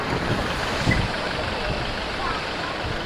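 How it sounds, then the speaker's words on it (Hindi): Sea waves wash continuously along Aazhimala beach in a broad, breezy roar with wind buffeting the microphone, steady and fairly loud. "आवाज देखे ना समंदर का,"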